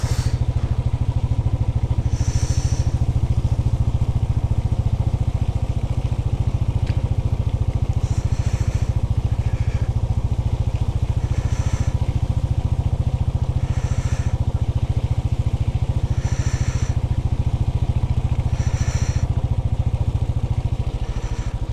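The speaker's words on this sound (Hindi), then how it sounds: "क्या फील आ रहा है भाई बर्फ में बाइक चलाने का" A Royal Enfield Bullet motorcycle rides through fresh snow during live snowfall in Kashmir. Its steady, close engine thump and rumble run unbroken throughout the ride, with faint higher bursts above it.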